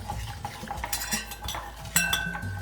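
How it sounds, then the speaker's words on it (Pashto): A flat spoon stirs tomato chutney in a pan, with irregular metallic scrapes and clinks over a soft sizzle, heard close with no talking. "دا هم ورته اواره قاشقه دا وراچوم او داسې به یو څه وښورم چې دا سره شي"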